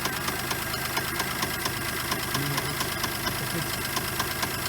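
A faulty engine in a Geo Metro running rough, with a steady rhythmic knocking tapping over a continuous mid-pitched engine drone, close and constant throughout.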